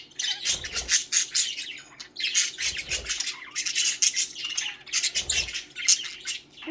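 Pet budgies squawk and chirp in loud, dense bursts that come in repeated waves, close up, with no voices over them.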